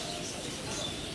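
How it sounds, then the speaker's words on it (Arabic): Captive parrots in a bird and animal park enclosure make soft calls over a noisy, hissing background, brief and fairly faint, with no talk. "هذه البغبغانات"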